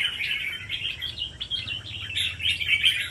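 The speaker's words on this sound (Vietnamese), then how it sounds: "Anh em test thử cái nước cũng như là cái nét của con chim nhá." Close, lively chirping from a songbird being sold, rapid high twittering phrases repeating throughout with brief pauses and a faint low hum behind.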